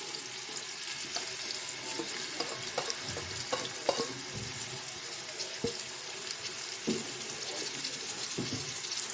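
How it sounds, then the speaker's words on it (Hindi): Finely chopped small onions frying in about 100 grams of cooking oil until golden brown, a steady sizzle with occasional scraping and clinks of a spoon against the pan, alone without talk. "तब तक हम फ्राई करेंगे जब तक ये ब्राउन हो जाए।"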